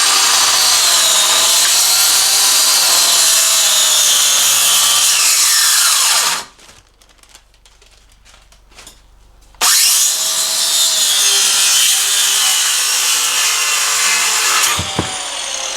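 Power tool cutting through a steel part of a Jeep engine crossmember, a loud sustained grinding whine that stops for about three seconds, then resumes just as loud and runs on to the end.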